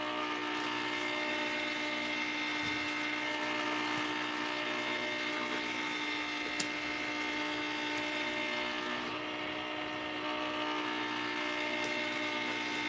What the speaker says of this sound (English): Make sure our vacuum sealer is on.